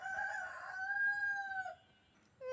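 A rooster crows once in a long, drawn-out call near a flooded rural yard, followed by a brief pause and the start of another note.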